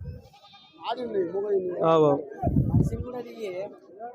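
Large male goats bleat loudly at a weekly Saturday livestock market, several wavering calls close together over a few seconds against crowd noise.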